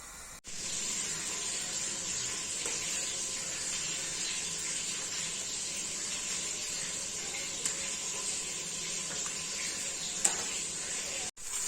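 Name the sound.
roughly chopped onions lightly frying in a pressure cooker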